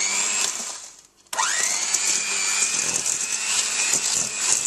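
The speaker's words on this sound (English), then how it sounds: "break the butter up a little bit before you start and then just start whisking" An electric mixer whisking butter and sugar for cupcakes, a steady high motor whine that briefly drops out, then restarts and runs strongly with a rising pitch as it spins up.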